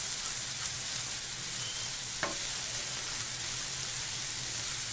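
Pasta with smoked salmon, black pepper and a creamy sauce sizzles and is stirred in a pan, a steady soft frying hiss with one faint scrape of a utensil midway.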